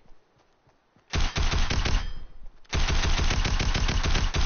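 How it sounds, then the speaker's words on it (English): Submachine gun fire in a video game: two long, loud, rapid bursts of close automatic shots, separated by a short pause. "It's like a SMG."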